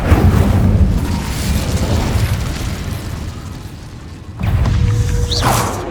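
An Incendio fire spell is cast in Hogwarts Legacy, heard as a loud, roaring whoosh of flame with booming low rumble, a brief dip, then a second fiery burst and crackle near the end.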